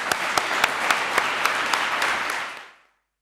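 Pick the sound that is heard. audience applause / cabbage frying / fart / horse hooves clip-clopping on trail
audience applause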